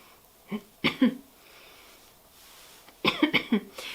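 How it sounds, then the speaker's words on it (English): Two bursts of coughing, a couple of quick coughs early on and then a rapid cluster of several harsh coughs near the end, close and fairly loud. "I will try to cut out as much of my coughing as possible"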